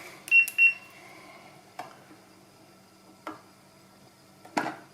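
Continuity beeps from a multimeter probing a vacuum sealer's circuit board: two short, fairly loud tones close together at the start, followed by faint probe clicks and a louder scrape near the end.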